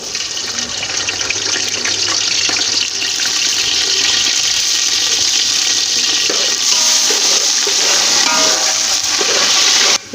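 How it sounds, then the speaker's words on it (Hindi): Two large chopped onions hitting hot ghee, giving a loud, steady hiss and sizzle that runs unbroken from start to finish with no talking. "अब हम इसमें डालेंगे 2 अदद बड़ी प्याज कटी हुई"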